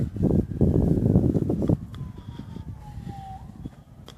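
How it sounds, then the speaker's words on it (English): Wind gusts across an open football field during an October kicking session, a loud broadband rush for the first second and a half, then dropping to a fainter blustery hiss with a passing tonal whine in the background. "That's a good bit of wind right there."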